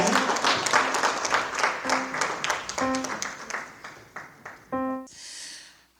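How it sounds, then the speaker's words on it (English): A round of applause breaks out for a speaker from the Center for Social Justice Initiatives being welcomed to address an audience, clapping spread across the room with a few brief voices and tones mixed in, fading out near the end. "So please give Doreen a round of applause"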